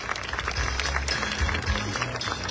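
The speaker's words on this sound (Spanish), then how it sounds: "Que se escuche fuerte el aplauso" Faint audience applause at a public event in Ciudad Madero, a soft steady patter of clapping heard from a distance without any standout claps.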